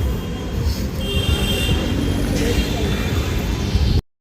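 A busy Mumbai railway station hums with the rumble of a train rolling past and thin metallic wheel squeals, steady and fairly close, ending abruptly.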